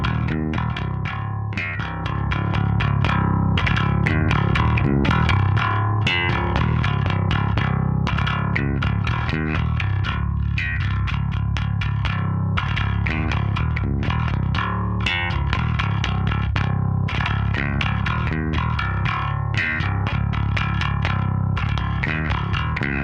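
A bass guitar played with slap technique through a Carvin BX250 micro bass amp head set to a scooped-mid tone, with steady percussive thumps and pops over a full sustained low end, loud and continuous throughout.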